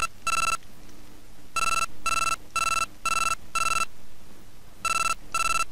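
Handheld video game Keitai Denjuu Telefang plays a glitched in-game phone ring: bright electronic ring bursts repeat in pairs with short gaps between them, loud and clear with no talk.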